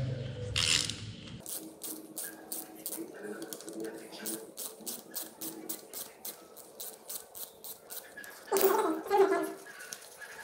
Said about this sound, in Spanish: Yo aquí pues utilizo mi matraca, pero también pues pueden utilizar ustedes la llave.